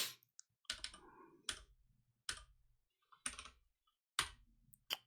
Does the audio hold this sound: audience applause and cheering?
no